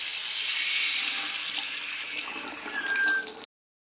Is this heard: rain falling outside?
no